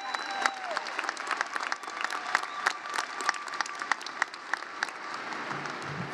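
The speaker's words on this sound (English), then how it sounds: "Please give yourselves a round of applause as we have accomplished the impossible." Graduates at a college commencement ceremony applaud steadily, a dense wash of many hands clapping from a large crowd, moderately loud and continuous throughout with no voices rising above it.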